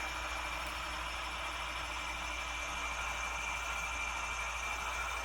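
Model BNSF ET44C4 locomotive, a ScaleTrains Rivet Counter with a LokSound v5 decoder, running a steady low diesel engine drone with a continuous hiss, faint and even throughout.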